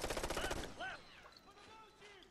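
Cover fire in Ghost Recon Future Soldier, a rapid burst of gunshots at the start, followed by quieter scattered effects and chirps.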